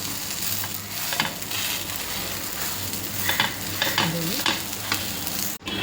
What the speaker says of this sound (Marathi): दुसऱ्या साईडने छान भाजून घ्यायचा